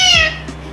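A tame talking male parrot gives one close, loud meow-like call that slides downward, imitating a cat, followed by a brief faint chirp against quiet background hum.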